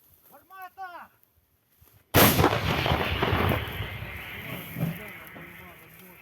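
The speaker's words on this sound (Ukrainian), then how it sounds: "Так працює гармата гаубиця Д-20." A brief voice speaks, then a D-20 howitzer fires with a loud blast followed by a long rolling boom and echoing rumble.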